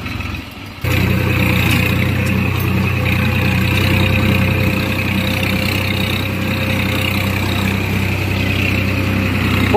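A farm vehicle's engine works under load in four-wheel gear, sending a loud, steady, close low drone that kicks in abruptly after a brief quieter opening and then holds level without talk.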